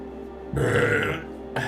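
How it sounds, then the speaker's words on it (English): A single loud, close burp rises abruptly and fades within about a second, over a low steady background hum. "Burp"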